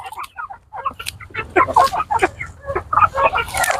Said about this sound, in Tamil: இதெல்லாம் வந்து எக்ஸ்போர்ட் குவாலிட்டி கோழிங்க நம்ம ஊர் கோழிங்க கிடையாது